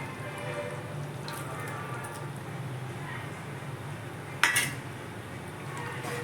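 Fried chicken added to chilli chicken gravy and stirred in a pan, with a quiet steady simmer and one sharp metallic clank of a utensil against the pan partway through.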